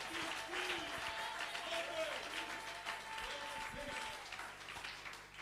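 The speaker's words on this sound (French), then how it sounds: "Acclamez Jésus" A church congregation applauds through a Sunday worship service, a steady wash of clapping with crowd voices and some singing or talk mixed in.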